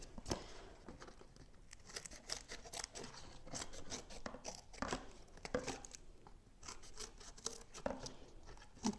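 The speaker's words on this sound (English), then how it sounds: "So I'm just going to cut either side and the top." Scissors snip through paper to cut out a bird wing shape for a collage, giving a close, steady series of crisp cuts and rustles with short pauses between them.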